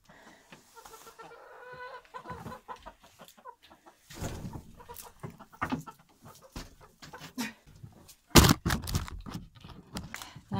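Chickens cluck and squawk in a composting coop, scattered close calls and shuffling sounds at fairly low level, with one sharp loud burst near the end.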